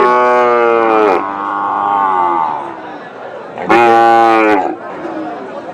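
Cattle at a busy cattle market in Panchagarh low out loud and close, two long drawn-out moos separated by a pause, over a murmur of crowd chatter and nearby voices.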